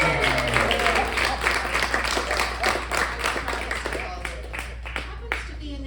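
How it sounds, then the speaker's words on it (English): An audience at a book release event in Nashville gives a round of applause, dense clapping under a low steady hum, with a voice talking partly over it. "If I say it again, I want a big round of applause"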